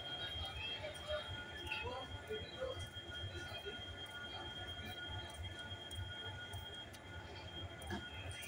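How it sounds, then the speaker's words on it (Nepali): A train stands at a railway platform, giving a faint, steady rail rumble with occasional high metallic squeals and clicks. Quiet voices murmur in the background of the station. "एउटा ट्रेन यहाँ अघिदेखि रोकिरहेको छ।"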